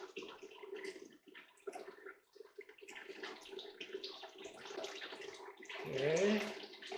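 Pump running water over a gold-separating table, a soft continuous wash and trickle with a low steady hum, heard faintly with a brief louder gush near the end.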